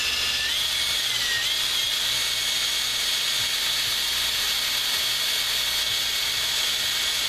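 Power brass trimmer running on speed setting 1, trimming 5.7x28mm brass cases, giving a steady, continuous high-pitched whir with a hissing cutting edge that stays even throughout.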